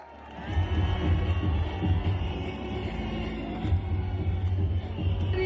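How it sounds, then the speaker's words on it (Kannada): A large audience claps and cheers loudly and continuously at a live Kaatera film event, a steady dense roar of crowd noise throughout. "ಒಂದು ಜೋರ ಚಪ್ಪಾಳೆ"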